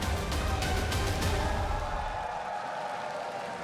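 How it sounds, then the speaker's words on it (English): A large esports arena crowd at a League of Legends match roars and cheers loudly, with clapping at first, the dense noise slowly easing off toward the end. "The crowd is definitely not going to be tired of making noise after this."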